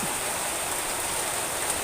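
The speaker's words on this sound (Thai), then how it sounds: "กลัวฟ้าร้องแต่ฝนตกหนักมากนะคะ" Heavy rain pours steadily at a rural house, a dense, even hiss with no pauses, close and fairly loud, with no talk.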